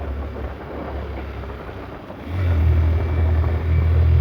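Yamaha Fazer motorbike riding along a mountain road in the Bandarban hills, its engine a steady low rumble mixed with wind buffeting the microphone, growing louder and heavier partway through as the rider pulls harder.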